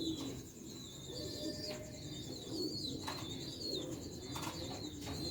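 Ferozpuri pigeons cooing close by in a loft, soft repeated coos over bird chirps and rustling, with occasional wing flutters and faint background noise.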